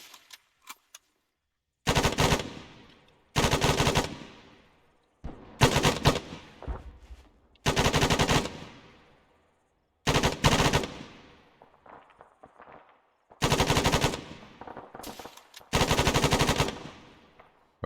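Bursts of rifle and machine-gun fire during a special forces detachment training exercise, coming in several loud sustained volleys separated by short pauses.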